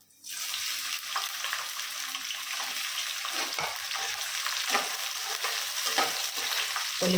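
Ivy gourd pieces sizzle and fry steadily in hot oil in a pan, a loud continuous crackle with occasional stirring, no talk.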